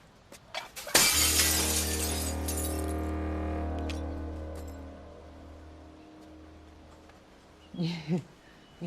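A handmade glass piece with a sea-grass design is smashed, giving one sudden loud shattering crash followed by long ringing, tinkling decay of glass fragments, with brief voices at the very end.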